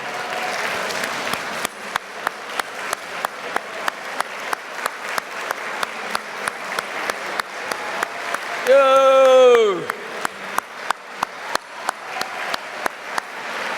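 Audience applauding trustees and governors at a museum benefit gala, rhythmic synchronized clapping in a large room, broken briefly by a loud shout from one person partway through.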